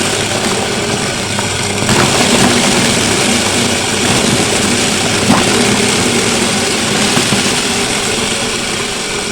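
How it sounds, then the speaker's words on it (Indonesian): An engine-driven chopper machine runs steadily while chopping banana stems into livestock feed, a loud continuous motor drone with a rough churning roar throughout and no speech. "Ini tinggal dihidupkan saja mesinnya. Nah, sudah berputar."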